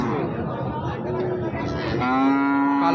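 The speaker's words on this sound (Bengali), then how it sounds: "এখানে একটা কালো কালারের গরু আছে" Voices chatter at a cattle farm, then a black Friesian cross cow lets out one long, loud, drawn-out moo close by near the end.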